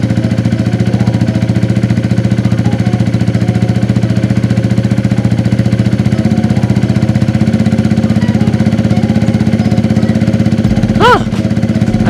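A motorcycle engine idles with a steady, loud, rapid pulsing drone throughout while its idle RPM is adjusted, with a brief rising tonal chirp near the end.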